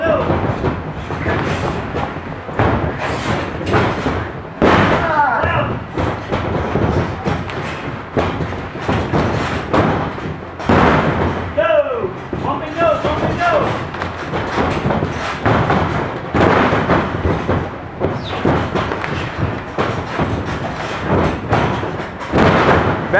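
Wrestlers doing hip tosses and tackles slam onto mats in a loud, busy stream of heavy thuds and scuffles, with shouting and coaching voices over the impacts.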